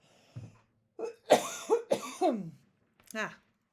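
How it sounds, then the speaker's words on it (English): A person coughs several times in a rough, throaty burst, then one more cough after a short pause, close and fairly loud. "And I've got a cough."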